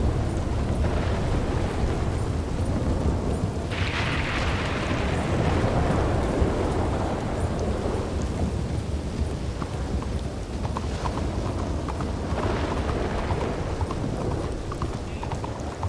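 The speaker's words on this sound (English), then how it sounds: "It's dreadfully pouring rain right now." Heavy rain pours steadily in Red Dead Redemption 2, a dense, constant wash of sound with low rumbles of thunder swelling at moments, and no one talking.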